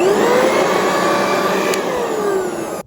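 A Black + Decker leaf blower and mulcher runs close and loud with a steady high-pitched motor whine and airy rush, its pitch sagging slightly, then cutting off abruptly at the end.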